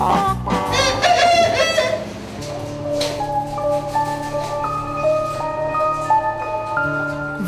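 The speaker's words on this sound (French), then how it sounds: "suivons cette étrange gallinacée jusqu'à son poulailler." Featherless broiler chickens in their coop cluck and crow nearby, with one long crow early on over a steady hum of farm ambience.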